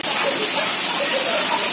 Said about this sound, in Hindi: इतनी तेज बारिश है।